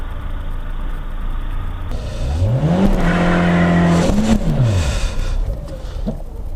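A Citroën Traction Avant engine revs hard during a burnout, pitch climbing, holding high and loud for over a second, then falling away, with rough mechanical noise before and after.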